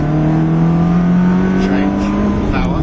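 A Ferrari engine surges at full power, a steady loud roar with a rising tone under the driver's voice as the car accelerates hard.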